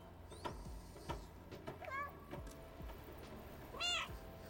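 Two short, distinct cat meows in the game Stray, set among sharp clicks and thumps, the second meow louder and more drawn out.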